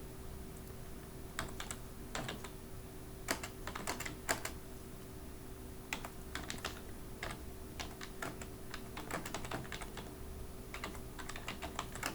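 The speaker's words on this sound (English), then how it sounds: "So you can just start typing something like this" Keys clack on a computer keyboard in short irregular bursts with brief pauses, quiet and close, over a faint steady hum.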